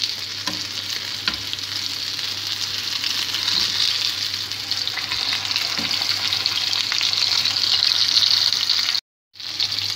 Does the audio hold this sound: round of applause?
no